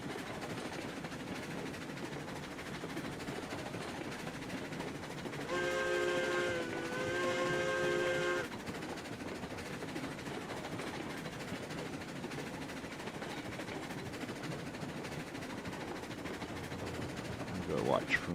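A train running in the Railroads Online video game gives a steady rolling rumble throughout, with a sustained chord-like whistle blast of about three seconds partway through and a faint voice near the end.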